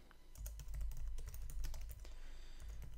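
Brisk typing of code on a computer keyboard, irregular clusters of close, crisp keystrokes with no talking.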